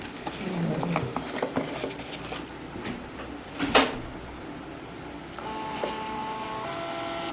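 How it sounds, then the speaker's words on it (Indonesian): A receipt printer test-prints a logo in a brief mechanical burst, with light clattering around it and a faint voice in the background. "Contoh kita tes print untuk logo fotonya"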